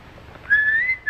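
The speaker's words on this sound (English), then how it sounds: "Go ahead, Bobby. Whistle if you want." A person aboard a passenger space jet whistles a sustained tone that bends upward and then holds steady for about half a second, clear and close.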